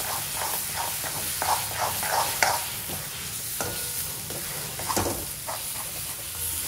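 Chicken in tomato gravy sizzling in a pan under a steady hiss, with rhythmic stirring scrapes of a spoon repeating throughout, close and continuous.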